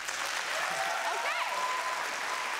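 Audience clapping at the Inventure Prize show, a broad steady wash of applause lasting a few seconds with faint voices and a brief tone rising over it.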